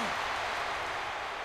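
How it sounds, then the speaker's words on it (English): Steady, dense crowd cheering and roar fills the short stretch in WWE 12, a wrestling video game, heard as a loud continuous wash of arena noise with no individual voices standing out. "Big pop from the crowd."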